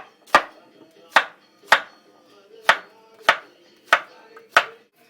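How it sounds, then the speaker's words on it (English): A knife chops zucchini on a cutting board in seven crisp, close strikes spaced at a steady, unhurried rhythm, with quiet pauses between cuts. "Zucchinis you cut like this, so you can see."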